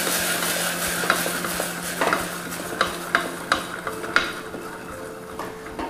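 Cooked black beans are stirred with garlic and olive oil in a pan, with a steady sizzle underneath and a spoon scraping and knocking against the pan about once a second, close by, with no talking.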